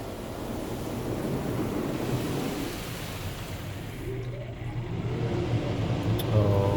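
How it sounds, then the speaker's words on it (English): Automatic car wash rinse cycle at Hosers Car Wash in Belleville, Ontario, with water spraying steadily over the car in a loud, continuous rushing wash heard from inside, and a low rumble building near the end. "Now this is the rinsing."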